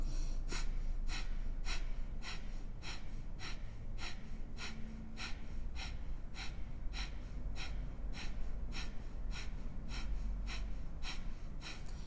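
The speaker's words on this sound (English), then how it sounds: "go ahead and start in with your fire breath. So strong exhale, passive inhale" Yoga breath of fire: a steady run of short, forceful nasal exhales with passive inhales between them, evenly paced at roughly two per second, close and fairly quiet over a low background hum.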